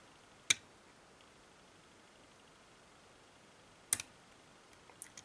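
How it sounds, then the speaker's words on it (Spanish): A lock pick nudges pins inside a Winkhaus AZ lock, giving two sharp, faint metallic clicks a few seconds apart, then a couple of softer ticks, in a quiet room. "Ha hecho un clic, lo coloco."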